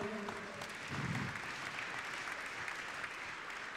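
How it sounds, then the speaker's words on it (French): Audience applause at a French real estate awards ceremony, the Pierres d'Or, fills the room steadily at moderate level for the whole stretch, a dense wash of clapping with no speech over it. "On l'applaudit bien fort."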